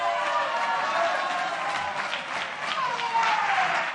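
Steady applause from Morena, PT and Verde legislators fills a Mexican legislative chamber, a dense, even patter of many hands clapping at moderate loudness without letup.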